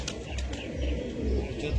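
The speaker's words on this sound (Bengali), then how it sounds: "চিনিয়া পায়রা।" A Chinia pigeon coos softly in a loft of Madras pigeons, low repeated murmuring calls at a fair distance amid faint background noise.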